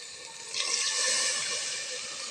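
Water pours into a pot of meat being prepared for a pressure-cooked matoke and meat dish in coconut sauce, a steady rushing splash that swells after a moment and carries on close by without any voices.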